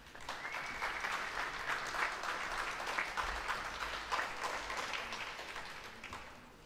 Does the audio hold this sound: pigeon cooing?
no